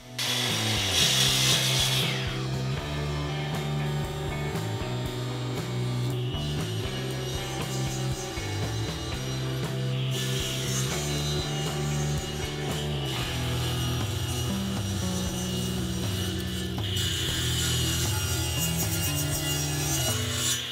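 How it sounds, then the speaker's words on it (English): A power saw rips and crosscuts wooden boards to rough width and length in a woodworking shop, with long continuous cutting passes that start and stop, loud and close, and no talk. "I have these boards ripped to rough width and cut the rough length"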